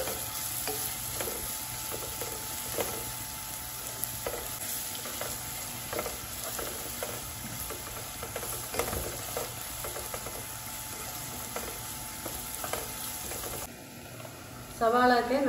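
Onions sautéing in a pan for semiya uppumavu, stirred with a spoon that taps rhythmically against the pan over a constant sizzle, with a short louder knock at the very end.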